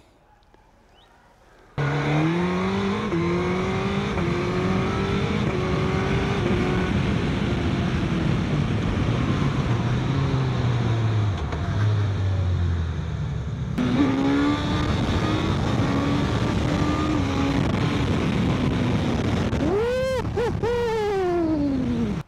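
A Suzuki GSX-S 1000 GX motorcycle is ridden on the road, its engine starting up and droning steadily while revs rise and fall through gear changes, then surging with sharp acceleration bursts near the end; no talking.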